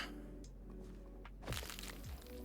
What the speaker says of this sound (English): why does it make such a bone-crunching noise?